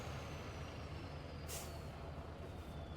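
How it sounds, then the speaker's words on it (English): A dump truck delivers loads of dirt to a duplex construction site. A low, steady engine rumble runs throughout, broken by one short, sharp air-brake hiss midway. "the dump truck is just bringing in tons of dirt"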